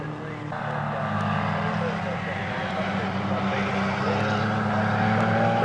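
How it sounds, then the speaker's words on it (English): 1950s Cooper Works racing cars speed along a race circuit toward the finish, a steady loud engine roar that holds throughout with no clear pass-by peaks. "Brabham and McLaren speed towards the finish."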